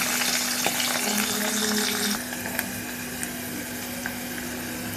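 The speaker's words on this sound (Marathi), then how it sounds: "लसूण चांगला गोल्डन होईपर्यंत फ्राय करायचं आहे" Crushed garlic fries in hot oil with mustard seeds, cumin and curry leaves, giving a dense, steady sizzle with occasional pops and faint stirring, close and continuous throughout.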